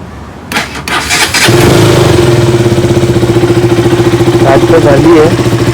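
A motorcycle engine cranks for a moment and then catches, settling into a loud, steady, throbbing idle close by that continues to the end.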